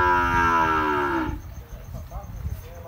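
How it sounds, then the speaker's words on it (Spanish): A first-calf sarda heifer lets out one loud, close, drawn-out moo that slides downward and cuts off after about a second and a half, leaving quieter farmyard noise behind. "ahí está esa novilla sarda también. Novilla de primer parto."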